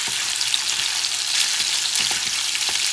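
Cod Spanish omelette sizzling steadily in a frying pan, loud and close, with intermittent scraping and tapping as a utensil breaks it apart and keeps it moving.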